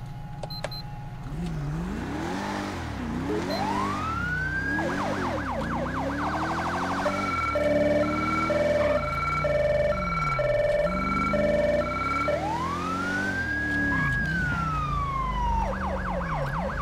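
A police car siren in GTA V with the LSPDFR mod, responding Code 3, loud and close, cycling through wail, yelp and rapid hi-lo tones over engine rumble.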